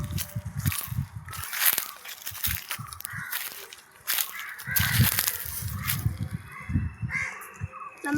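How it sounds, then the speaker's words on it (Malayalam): A pet parrot on a small Kerala farm gives a run of harsh, squawking calls, loud and close, in repeated bursts with short pauses over about eight seconds. "ഇതാണ് തത്ത."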